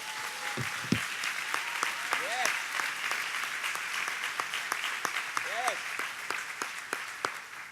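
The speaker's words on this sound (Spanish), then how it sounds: "Si le vas a aplaudir al Señor, apláudele, pero bien machín." Scattered applause from a church congregation during a sermon, with voices calling out in the room and sharp individual claps standing out over the steady clatter.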